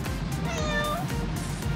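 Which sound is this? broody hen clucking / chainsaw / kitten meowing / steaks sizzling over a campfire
kitten meowing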